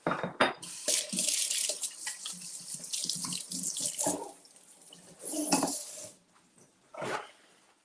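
Running tap water splashes into a sink while hands are rinsed in a home kitchen during cookie baking, a steady gush with pauses and short bursts, close and fairly loud, with no talking.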